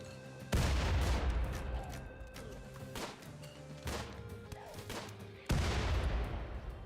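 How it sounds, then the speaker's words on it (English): Gunfire in the modded RimWorld game with the Anomaly expansion, as colonists shoot fast and inaccurately at an enemy rounding a corner: several loud, sharp bursts of shots, the strongest at the start and near the end, with quieter volleys between. "As soon as he rounds the corner, we start shooting."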